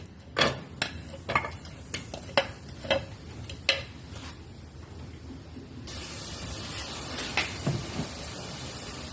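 Garlic sautéing in hot cooking oil for chicken afritada: a few sharp stirring clinks come first, then a steady, fairly quiet sizzle for the last few seconds.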